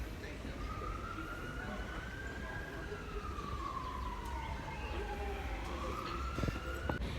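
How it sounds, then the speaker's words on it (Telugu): An ambulance siren passing along a road in Esch, Luxembourg, wailing steadily and rising and falling over constant traffic noise at moderate distance. "ఏదో అంబులెన్స్ వెళ్తోంది."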